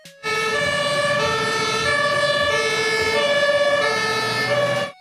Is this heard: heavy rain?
no